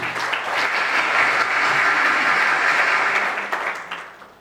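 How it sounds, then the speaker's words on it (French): Guests at a civil wedding ceremony applaud loudly, a dense, sustained wash of clapping that swells, holds steady and then fades away near the end. "Une fois de plus, on acclame, mesdames et messieurs."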